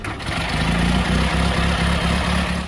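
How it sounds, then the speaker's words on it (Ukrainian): A vintage car engine, raw with no exhaust muffling, recorded on the road for the Mafia game: a deep, throaty drone that pulses in a steady low rhythm, close and loud, with no talk. "Можна зафіксувати справжнє звучання машини."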